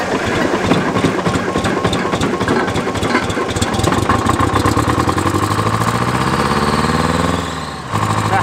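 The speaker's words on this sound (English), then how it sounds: "It's very important that when you start a diesel engine, you let it warm up nicely before you start running her full throttle." A diesel engine on a combine harvester cranks and catches with rapid chugging pulses, then settles into a steady loud idle with a rising whine before dropping off briefly near the end.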